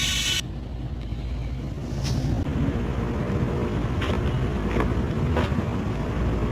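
A motorcycle engine in the Indian Bike Driving 3D game, a KTM or Pulsar bike running on its own without throttle, a steady whooshing drone with wind-like noise and a few faint clicks.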